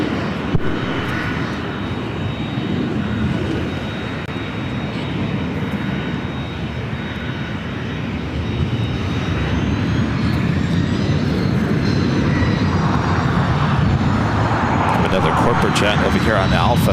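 Aircraft engine drones loud and steady on taxiway Alpha at LAX airport, a continuous broadband roar that swells slightly toward the end, with no talk over it.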